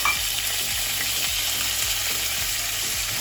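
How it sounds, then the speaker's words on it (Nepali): Grated onion hits hot oil in a pan already holding bay leaf and whole spices, making a loud, continuous hiss of frying that stays close and steady throughout, with no voices. "त्यसै गरेर अघि मैले ग्रेट गरेर राखेको प्याज राख्दैछु"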